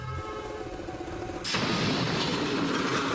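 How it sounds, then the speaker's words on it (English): Steady rumble of a passing train, then a sudden loud crash as the train hits a car, turning into a dense, roaring clatter of impact and rolling noise. "The train just demolished the car."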